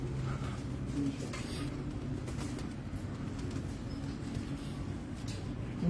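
Pigeons cooing softly on a rooftop loft of rare breeds, low repeated coos over a constant background hum, with faint distant voices.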